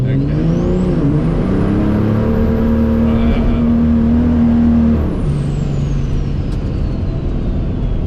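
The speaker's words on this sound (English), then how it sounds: "So we just spun that whole entire time, from the point at which I accelerated to the point at which I let off." A Cummins compound-turbo diesel truck in 2-wheel drive accelerates hard with its wheels spinning, a loud close engine roar rising in pitch with a high turbo whine, then easing off as the throttle lifts.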